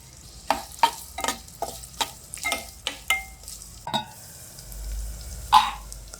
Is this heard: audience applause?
no